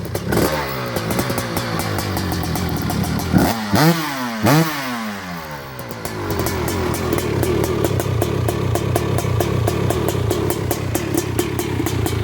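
A 250R dirt bike engine runs during carburetor jetting and gearing tuning, idling with a raspy two-stroke buzz, blipping into sharp revs around the middle, then settling back to a steady, loud, close idle.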